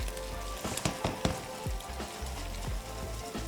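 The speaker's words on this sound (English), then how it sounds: "we're going to scramble the egg, just whisk it around the wok, just scramble it about" Beaten egg scrambles in a hot wok for egg fried rice, a close crackling sizzle with scattered sharp pops and scraping taps of the utensil, steady and fairly quiet, with no voices.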